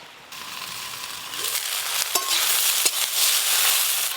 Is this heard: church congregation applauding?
no